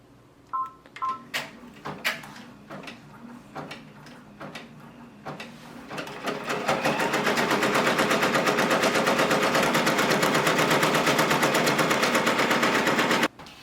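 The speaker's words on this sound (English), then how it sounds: "It's going to do the tack down stitch." A Brother Persona embroidery machine sewing a tack-down stitch for a double appliqué patch starts with a few clicks and beeps, then settles into a loud, rapid, continuous mechanical needle chatter close by.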